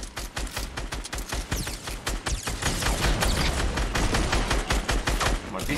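Super shotgun blasts in Fortnite fire in a rapid, dense run of loud sharp reports, one after another, with battle noise filling the gaps.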